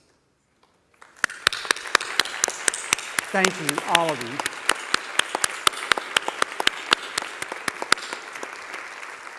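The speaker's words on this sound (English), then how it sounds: "would you please stand for a moment and let us give you praise and applause" An audience at a community impact summit applauds small business partners with dense, steady clapping that starts abruptly and carries on for several seconds, sharp individual claps standing out up close while a voice speaks briefly over it.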